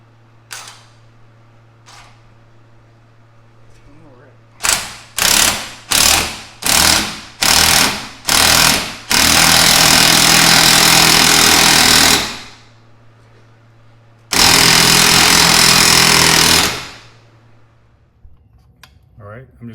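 Impact gun working the front lower control arm bolt on a Porsche Cayman 987.1: a string of six or seven sharp rattling bursts, then a long sustained hammering run, a pause, and another long burst, loud and close.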